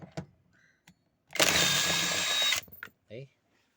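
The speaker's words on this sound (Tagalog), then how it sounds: "gamit ng 14mm tsaka impact wrench kalasin natin tong 14mm bolt na to" An impact wrench loosens a 14mm bolt in one loud, steady burst of about a second, bracketed by brief clicks and short handling noises, close up with no talk.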